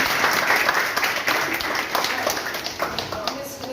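Students in an Indian coaching academy classroom burst into loud, dense applause, a steady wash of many hands clapping close by that slowly thins out toward the end.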